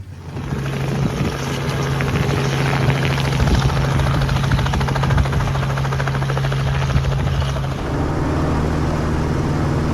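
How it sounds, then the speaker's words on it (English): A microlight aircraft takes off from runway 28, its engine a loud, steady droning buzz that holds for the whole stretch and eases slightly near the end. "Taking off on runway 28, heading back west towards Arcachon"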